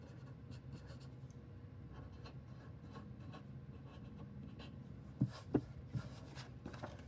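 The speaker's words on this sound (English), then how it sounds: "So for Emerald, let me write Emerald up here" A marker squeaks and scratches across a board in short strokes, fairly faint and close, with a few sharper taps near the end and no voices.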